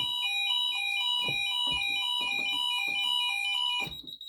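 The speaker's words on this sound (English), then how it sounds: "if I was to do the same thing and activate the alarm again" A fire alarm panel sounds a steady, high-pitched warbling tone with faint clicks beneath, cutting off abruptly near the end.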